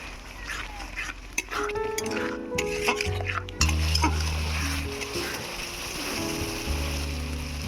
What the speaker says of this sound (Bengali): মশলাটাকে এবার আমি ভালো করে কষি নেব অল্প একটু জল দিচ্ছি